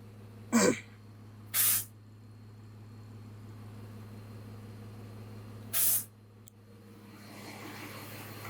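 Air suspension bags on a BMW E46 fitted with AirMext struts being calibrated, with three short sharp pneumatic hisses spaced apart over a steady low hum.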